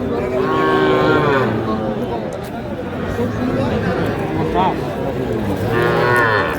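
Cattle low loudly and near at a Khulna livestock market selling young bulls and heifer calves, with long drawn moos at the start and end over a steady crowd babble and people talking.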